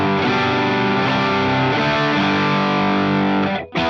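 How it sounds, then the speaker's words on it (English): Electric guitar through a Boss DS-1 distortion pedal with the tone knob fully down, loud dense chords with a dull, dark fuzz, sustained then cut off abruptly near the end. "So with the tone all the way down, it sounds something like this."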